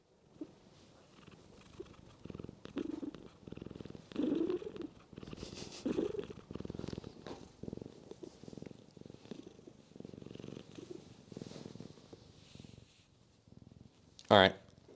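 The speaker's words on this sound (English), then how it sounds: "can you hear him purr?" A cat purrs softly in a low, steady rumble close to the microphone, faint under a voice as he talks, with a brief sharp sound near the end.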